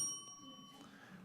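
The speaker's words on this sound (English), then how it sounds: "So rather than having to interrupt your speaking, you will simply hear a bell." A single timer bell rung at a city council meeting gives one bright, ringing strike that fades within a second over faint room tone.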